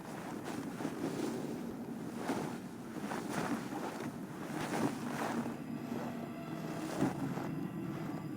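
Steady gusting wind roars around a boat in the video game Assassin's Creed Valhalla, with a constant rushing wash and occasional louder swells, no voices.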